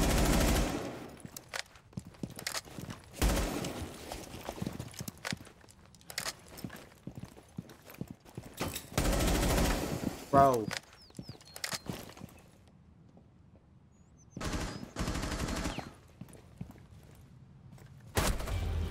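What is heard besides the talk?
gunfire in video game Rainbow Six Siege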